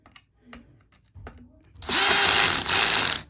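A power drill drives screws into a pantry cabinet door rack, first with a few short bursts and light handling knocks, then a loud, sustained whir up close.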